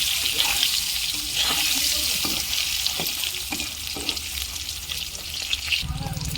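Beaten eggs mixed with salt and turmeric frying in oil for an egg curry, a loud continuous sizzle close by with a few spatula strokes and a brief change in tone at the end.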